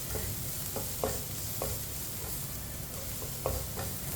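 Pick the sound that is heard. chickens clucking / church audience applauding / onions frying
onions frying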